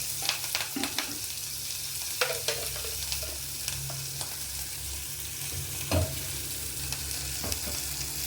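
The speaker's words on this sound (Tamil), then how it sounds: "பச்சை மிளகாய் போட்டுக்கிறேன்." Green chillies sizzling in hot oil in a pan, a steady close frying hiss broken by occasional stirring clinks and scrapes, with no voices.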